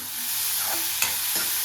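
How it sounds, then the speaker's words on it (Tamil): Chopped onions and green chilies frying in hot oil for a Tamil egg fry, a steady close sizzle with a couple of brief stirring clinks, no talking. "நல்லா எண்ணெய் காஞ்சதும் ஒரு 2 வெங்காயத்தை அப்படி பொடிசாக கட் பண்ணியிருக்கேன், அதை சேர்த்துருவோம்."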